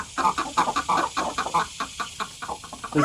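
A rooster gives a rapid series of short, nasal, duck-like quacking calls in an uneven rhythm, close by and fairly loud.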